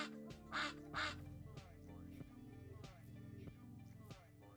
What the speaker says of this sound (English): the duck wasn't even intimidated by the bear and stared it down confidently